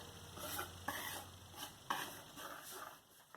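Dry ingredients with cinnamon and baking soda being stirred gently in a bowl, giving soft, quiet scraping and brushing strokes in a loose rhythm, with a few light taps and no talking.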